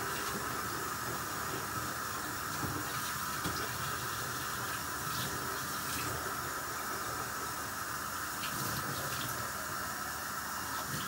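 Water runs from a tap into calf feeding bottles in a sink, a steady soft hissing stream at moderate distance, continuous and unbroken throughout.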